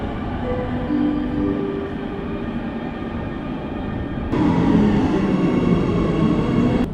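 A Warsaw metro subway train rumbles at a station with a steady, loud mechanical drone that grows noticeably louder and brighter partway through, with no talking.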